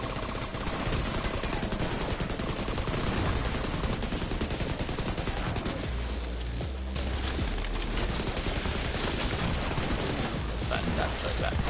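A grenade blast in the video game The Division 2, its deep, brief rumble rising partway through amid nearly constant loud automatic gunfire and shooting.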